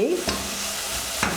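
Onion sizzles steadily in a hot pan for beetroot soup while a utensil stirs it, scraping twice against the pan over a constant loud frying hiss.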